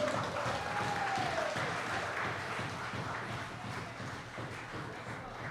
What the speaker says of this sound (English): Let's hear some more claps for him, man.